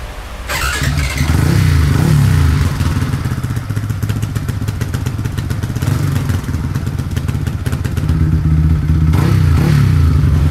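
A motorcycle with an open exhaust revs loudly and roughly, the engine rising and falling in bursts, close by and without talk.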